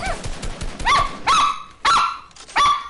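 A dog barks four times in a slow, uneven rhythm, each bark sharp, loud and close with a tonal ring, separated by short quiet gaps.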